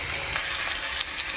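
Food sizzles steadily in hot oil in a pan while it is stirred, a dense continuous frying hiss with faint scraping strokes, close and without speech.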